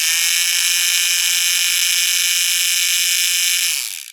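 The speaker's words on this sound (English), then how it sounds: "here's my screwdriver, and I'm going to turn it on so you can hear it" A toy electric screwdriver whirs continuously at a loud, even pitch with a slight rattly edge, then winds down and stops in the final moment.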